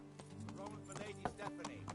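Horse hooves in the medieval video game Kingdom Come: Deliverance, a few soft clip-clop steps at walking pace under background music and a voice talking.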